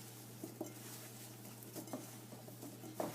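Apples are stirred with vanilla and cream in a bowl, giving soft, quiet scraping and occasional light clinks of a utensil against the bowl, over a steady low hum.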